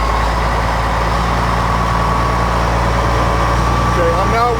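Fire engine pump engine revving to raise discharge pressure while hose lines are pumped, a steady loud low drone with a faint rising whine near the end, running under talk.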